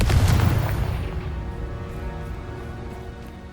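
A Confringo blasting spell goes off in Hogwarts Legacy, a single loud, booming explosion that hits at once and then rumbles away as a fading tail over a few seconds, heard with no one speaking.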